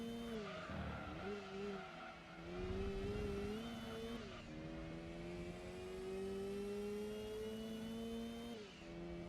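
A turbocharged RX-7 races in a driving video game, its engine revving high and steady through several gear changes, with sharp drops between shifts and tire squeal on a corner.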